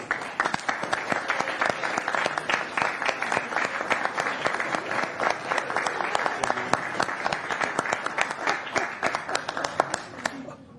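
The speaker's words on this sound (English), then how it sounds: "Can you mind if we give Otto a hand of applause" A crowd claps steadily at a city council meeting in Puyallup, a dense, even round of applause lasting about ten seconds with no talking over it.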